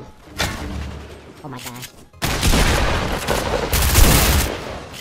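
Rapid bursts of gunfire in the video game Fortnite on Nintendo Switch, dense and loud through most of the clip after a quieter start, with a player's excited voice over the shots.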